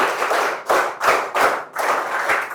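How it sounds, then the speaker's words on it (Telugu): An audience claps in bursts to congratulate a third-place winner at a meeting of tribal women, the loud clapping coming in four or five short waves with brief gaps between them. "గట్టిగా చప్పట్లు కొట్టి అభినందించండి."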